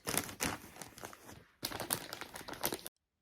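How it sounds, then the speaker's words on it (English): Christmas wrapping paper crinkles and rustles close up in two bursts of crisp, crackling handling, with short sharp crumples and a brief lull between, then abrupt silence. "sorry about the noise of the wrapping paper. It's very noisy wrapping paper"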